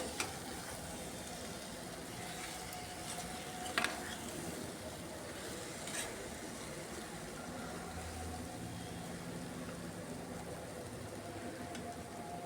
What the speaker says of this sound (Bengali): লবণটা দিয়েও কিছুক্ষণ আমি কষিয়ে নিচ্ছি।